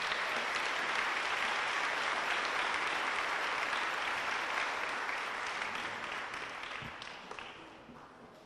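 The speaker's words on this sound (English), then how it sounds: "Now you can let it rip with applause" Applause at a school academic awards banquet, a large audience clapping in a thick continuous wash that holds steady and then tapers off toward the end, heard from a distance.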